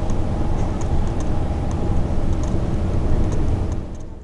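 A car drives along a road through the Burren in Ireland, heard from inside as a steady, loud low rumble of engine and road noise, with faint ticking over the top.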